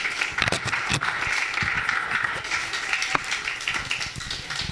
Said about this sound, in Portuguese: E a salva de palmas ao Senhor Jesus